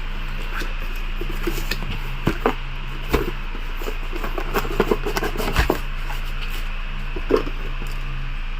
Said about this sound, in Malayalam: സ്റ്റീരിയോ ഞാൻ ജസ്റ്റ് ഒന്ന് അൺബോക്സ് ചെയ്ത് കാണിച്ചു തരാം